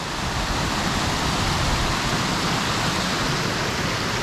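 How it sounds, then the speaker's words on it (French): A small mountain torrent in Norway rushes steadily past nearby, a dense, continuous hiss of flowing water with no pauses or voices. "pause déjeuner le long de ce petit torrent"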